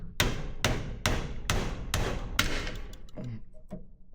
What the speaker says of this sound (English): I'll whack this down in here, the old snap-on screwdriver, which is broken on the end.